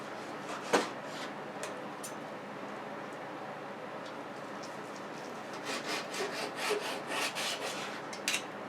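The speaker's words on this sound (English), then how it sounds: "now we're going to cut it into some slices" A knife slices through cooked honey BBQ apple cider beef brisket with a few soft scraping strokes, then a run of quicker rhythmic sawing cuts, close and fairly quiet.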